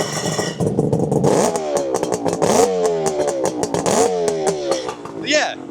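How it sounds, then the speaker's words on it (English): A 1976 Kawasaki KH400 Mach II two-stroke triple motorcycle, warmed up and fitted with aftermarket silencers, is revved repeatedly up close, its sharp, crackling two-stroke blips rising and falling in quick bursts. "so we've got it a little bit warm now, so we'll give it a little rev. Sounds great with those Higgspeed silencers."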